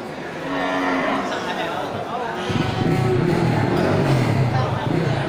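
A Bali bull crossbred with Simmental, at a cattle market for fattening stock, lets out a long, loud, low moo, then a second deeper one, over a murmur of background voices.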